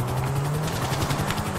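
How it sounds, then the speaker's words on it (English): A helicopter in the video game GTA 5 hums with a steady low rotor drone and broad whine, continuous and fairly close for the whole short stretch, with no talk over it. "I'm gonna try to get that helicopter up there."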